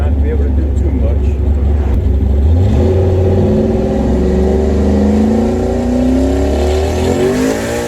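Turbocharged car fitted with VSR Gen 3 44mm wastegates running at about 20 psi of boost, cruising through traffic, its engine droning steadily with rising and falling pitch as it accelerates, close and loud throughout.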